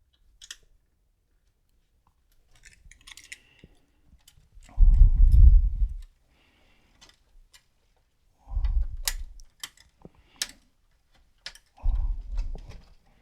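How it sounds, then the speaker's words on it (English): A knife scores the plastic of a Commodore 64 breadbin case in three short, close, gritty strokes about a second each, separated by quiet pauses with faint clicks. "score this with a knife so we can try to get a nice clean cut"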